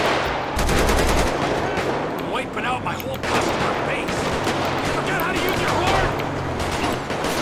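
Rapid gunfire from a biker gang fight in GTA 5 crackles in dense, repeated bursts, loud and close, with a voice talking over the shooting.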